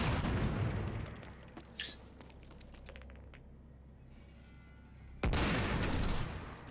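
Grenade explosions go off in the Quantum Break video game: a low, muffled rumble, then one sudden, louder broadband blast that holds for over a second.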